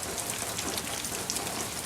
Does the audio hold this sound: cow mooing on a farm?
no